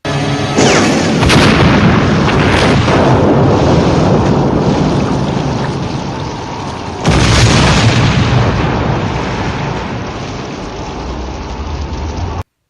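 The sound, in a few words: bazooka fire and explosions in the film Alligator II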